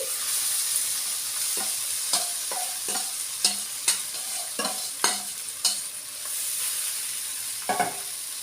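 Mixture stirred in a hot pan for pulusu attukulu, a constant high sizzle punctuated by repeated spoon scrapes and knocks in an uneven rhythm, close and fairly loud.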